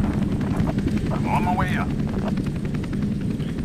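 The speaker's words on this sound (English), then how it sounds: "while that ominous helicopter's flying around" Helicopter circling in the video game F.E.A.R. 2, a steady rotor and engine drone running through the whole stretch under a man's speech and game sounds.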